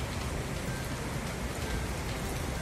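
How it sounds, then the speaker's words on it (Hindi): Heavy rain pours steadily at Chamunda temple beside the Banganga river, a dense, continuous hiss of drops striking surfaces, loud and close with no pauses and no voices. "आज चमंडा मंदिर में इतनी बारिश हुई कि नदी पूरी भर के जा रही है"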